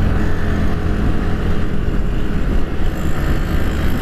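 A vehicle engine revs hard at full throttle during a street race, a loud, continuous roar sustained for the whole stretch with slight waver in pitch.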